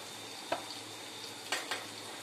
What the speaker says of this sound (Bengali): আর আমার তেল গরম হয়ে গেছে অলরেডি, অনেকক্ষণ আমি বসিয়েছি তেলটা গরম হয়ে গেলে ভালো করে এবার একটা একটা করে এর মধ্যে ছেড়ে দিন।